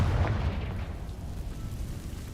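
Confringo fire spell explosion from Hogwarts Legacy: a loud low boom at the start that decays into a fading rumble over a couple of seconds, alone without talk.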